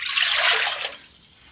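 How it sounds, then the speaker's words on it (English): Two cups of water pour into a mixing bowl for bread dough, a brief splashing rush that tapers off after about a second. "So I'm adding 2 cups of water"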